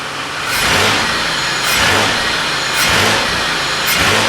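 A used car's engine revs up to 2,000 RPM and settles back repeatedly during an inspection, four rising surges in a steady rhythm, loud and close.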